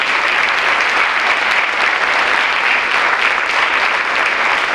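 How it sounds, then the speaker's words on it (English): Sustained applause from an audience at a Veterans Day ceremony honoring volunteers, a dense steady wash of clapping held at even loudness throughout with no pauses. "Once again, a round of applause to our volunteers"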